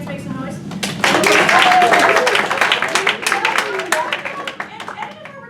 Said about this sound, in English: can I ask you to clap your hands, make some noise?